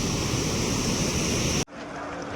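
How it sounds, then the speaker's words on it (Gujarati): Heavy rainwater pours over a dam in a loud, continuous roar that fills the clip, then drops abruptly to a quieter, thinner rush near the end. "અવાજ આવી રહ્યો છે આપણે પાણીનો, જે ડેમ ઉપરથી જઈ રહ્યો છે એનો અવાજ આવી રહ્યો છે"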